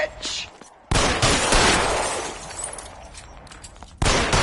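Gunfire in the 2011 crime game L.A. Noire, remastered edition: a loud, dense burst of shots erupts after a brief quiet, fades into a lingering tail, then another loud crack hits near the end, with voices shouting amid the fight.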